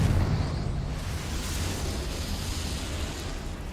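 A Confringo fire-blast spell bursting in the video game Hogwarts Legacy, a sustained loud rumbling explosion that rolls on without a break and slowly fades.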